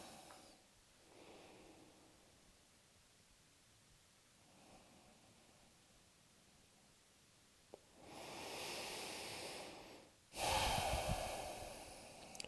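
Slow, deep breathing during a home full-body stretching routine: faint breaths at first, then two loud, close breaths near the end, with no talking.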